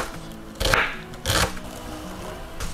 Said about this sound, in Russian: Мелко нарезаю репчатый лучок.